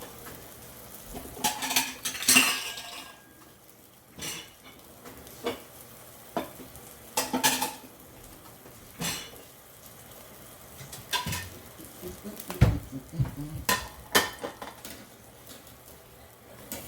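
Meat frying in a pan and being flipped, with a steady sizzle punctuated by repeated scrapes and clanks of a utensil against the pan, close and moderately loud, with no talking.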